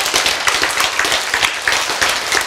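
Audience at a lecture claps steadily and loudly, a close, dense patter of many hands throughout.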